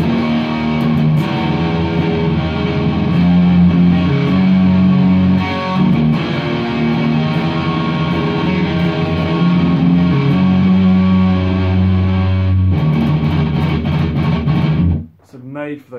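Heavily distorted Bluerock Les Paul electric guitar chugging out thick, aggressive thrash metal riffs, loud and continuous, cutting off abruptly near the end.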